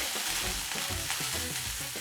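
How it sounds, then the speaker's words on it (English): Butter sizzles steadily in a hot frying pan, a close, continuous crackle with light stirring scrapes. "Hear that sizzle?"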